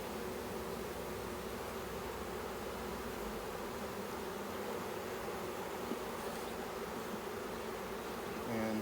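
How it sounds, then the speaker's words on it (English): A dense swarm of worker honeybees drones steadily and continuously close by during a hive check, with a constant buzzing texture and no talk. "So these are all worker bees here."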